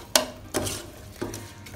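Spice paste with galangal, bay leaves, lime leaves and lemongrass sautéed in a pan for lontong sayur, heard as three short utensil scrapes and knocks against the pan, spaced apart in an otherwise quiet kitchen.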